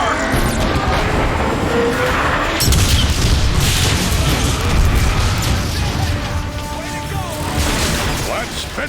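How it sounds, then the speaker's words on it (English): Artillery strike explosions in the video game Transformers: Fall of Cybertron, a heavy booming barrage of overlapping blasts and crashes that rumbles loudly and continuously. "I'd be curious as to what an artillery strike would do to that marauder."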